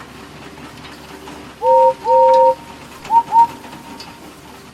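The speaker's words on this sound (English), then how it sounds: "Far away, but getting louder and louder, was the sound of an engine's whistle." A Thomas & Friends steam engine whistle sounds in two long tones, then two short toots, over a low rumbling background.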